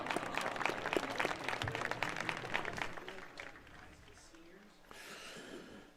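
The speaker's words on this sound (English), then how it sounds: "Please give a round of applause to these two standout athletes at Corry High" A crowd applauds two standout high school athletes on a track and field senior night, a lively clapping burst that fades midway and leaves quieter murmuring and faint voices.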